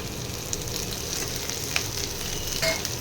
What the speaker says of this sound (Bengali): পেঁয়াজটা ভাজা ভাজা হয়ে এসছে, এবারে আমি টমেটো, একটা বড় টমেটো দিয়ে দিলাম।